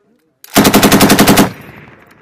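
Marines firing an M240B machine gun on a live fire range in Finland, a single loud, close burst of about ten rapid, evenly spaced shots lasting about a second, followed by a fading echo.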